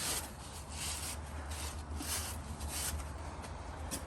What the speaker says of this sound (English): on the front side and on the back side and scrape until it's smooth